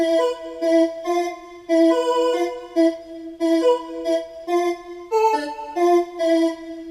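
A bright synthesizer lead plays a short repeating melody of sustained notes with rich harmonics, alone and clear, in a steady rhythmic phrase.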